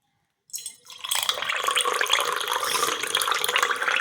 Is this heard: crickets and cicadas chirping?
no